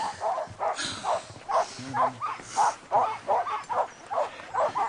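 Sled dogs near a mushing team bark and whimper in a rapid repeating series of yips, close and fairly loud, while a person speaks briefly.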